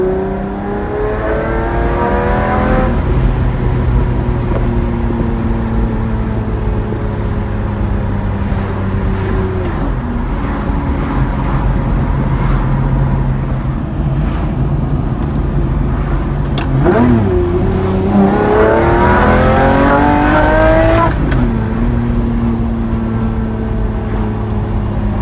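Lamborghini Murcielago V12 with six-speed manual heard from inside while driving, a steady loud engine drone that rises and falls through several rev changes and gear shifts, with no talking.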